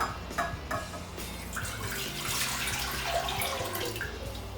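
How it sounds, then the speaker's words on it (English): Water from a tap runs steadily into a saucepan, about 600 ml, for cooking Korean instant fire noodles; a continuous close, moderately loud splashing pour fills the whole stretch with no talk. "into the saucepan I'm going to add 600 ml of water"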